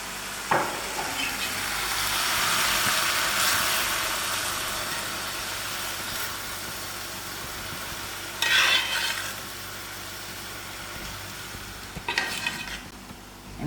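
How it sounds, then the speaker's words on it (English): Crushed chilies fry in a pan with a constant hissing sizzle that swells and fades, punctuated by a few louder bursts of stirring, all without speech. "Now that you can hear the chilies is frying"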